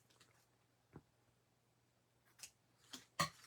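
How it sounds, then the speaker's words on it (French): Scissors snip a small length of ribbon during card making, giving a few soft, sparse clicks and snips in a quiet room with gaps of silence between them. "Ici, je vais couper un petit bout de ruban qui est un peu long."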